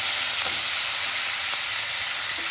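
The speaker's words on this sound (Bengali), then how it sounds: "লবণ দিয়ে দিচ্ছি যাতে করে ক্যাপসিকামটা একটু নরম হয়ে যায়। একটু ভেজে নিচ্ছি।" Capsicum and green chillies with salt frying in a pan, a loud continuous sizzling hiss with faint occasional clicks, close up and alone.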